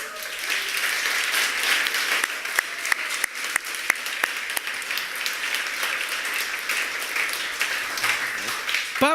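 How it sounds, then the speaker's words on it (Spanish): Church congregation applauding during a sermon, a dense, steady wash of clapping lasting several seconds with a few sharper claps standing out near the listener. "Denle un aplauso al Señor."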